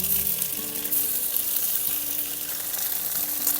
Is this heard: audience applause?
no